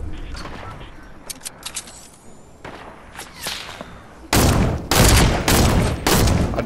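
Sniper rifle gunfire in a video game: several sharp distant cracks with whooshes, followed by three loud, close, heavy shots in a quick irregular burst, with players talking faintly underneath.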